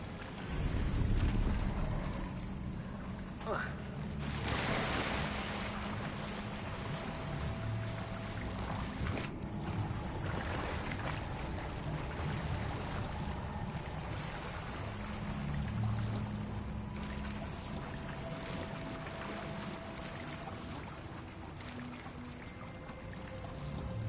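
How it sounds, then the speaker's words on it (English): Water bubbling and gurgling in the Hogwarts Legacy video game, a continuous soft watery churn with flowing texture, moderately quiet and steady throughout, with no speech over it. "Look, where the water's bubbling."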